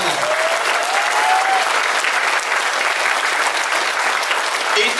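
A large audience breaks into loud, sustained applause, dense and even throughout, with faint voices mixed in near the start.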